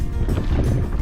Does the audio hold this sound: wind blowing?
yes